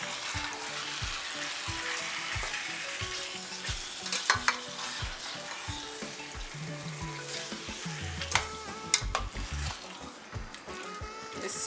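Beef sizzles and crackles in a hot pot while a utensil stirs it, with intermittent scraping and clinks over a steady frying hiss, close by and without talk.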